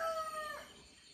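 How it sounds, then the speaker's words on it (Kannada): A rooster crows once, close and loud, the call rising and then trailing off within about a second. "ಈ ಕೂಗ್ತಾ ಇರೋದು ಕೋಳಿ ಅಂತ ನನಗೂ ಗೊತ್ತು"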